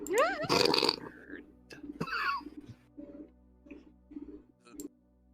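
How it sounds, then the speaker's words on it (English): Loud birds call outside in a series of short hoarse coos and grunts, spaced irregularly, with a person's voice and vocal sounds in the first half. "All of a sudden I hear these really loud birds"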